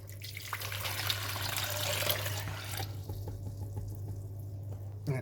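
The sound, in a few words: water poured into the RO tank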